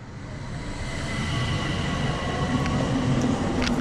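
A modern train moving through Austria, heard from a seat inside the carriage as a steady broadband rumble and rolling hum that swells slightly over time, with faint high whines near the end.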